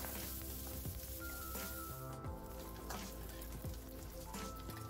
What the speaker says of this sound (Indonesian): Sekarang kita tumis kembali sampai bawang merahnya ini juga layu ya.